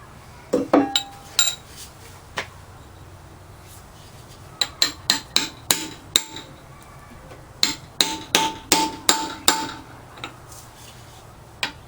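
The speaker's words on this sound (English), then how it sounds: "I can tap it off and get a little pin and a bigger hammer" Sharp metallic hammer taps on a pin while disassembling a Hercules 2 1/2 HP engine, a few scattered at first, then a quick run of ringing strikes, close and loud with brief pauses between.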